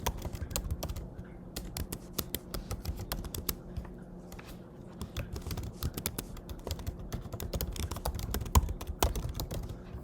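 Rapid, continuous typing of an address on a computer keyboard, dense key clicks close by for ten seconds with no speech.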